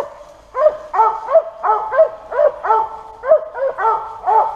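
A hunting dog on a squirrel hunt barks repeatedly in a steady rhythm of sharp, close, loud yelps, about a dozen barks with no talk over them.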